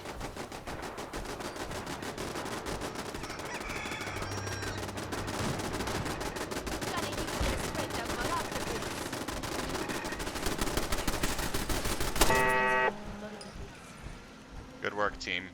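Turret gunfire in Fallout 4, rapid continuous automatic bursts that run for several seconds, dense and steady under game sounds and a talking player, then breaking off into scattered shots.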